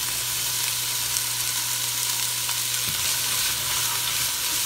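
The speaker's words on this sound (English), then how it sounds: "we're going to add in our carrots and" Carrots and celery sizzle steadily in a hot pan, a continuous close frying hiss with a brief stir or clatter partway through and no talking.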